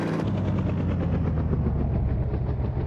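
Helicopter rotor and engine running steadily and loud, a dense rhythmic thumping chop with constant broadband roar, no voices over it.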